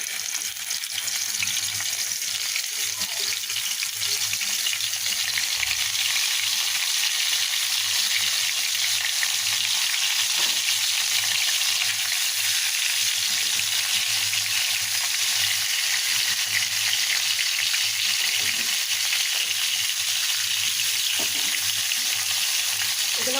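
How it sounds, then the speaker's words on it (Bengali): Rohu fish pieces fry in hot mustard oil, a loud, steady, close sizzle that holds evenly for the whole stretch without talking. "এগুলোকে একটু ফ্রাই করে নেব সরিষার তেল দিয়েছি গরম হয়েছে আর মাছগুলো আপনি দিয়ে দেবো"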